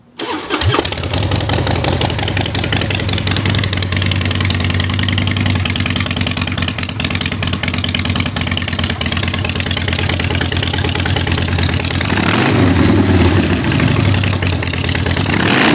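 A motorcycle with Paul Yaffe shotgun pipes fires up and idles with a deep, loud rumble, then blips into a brief rev toward the end.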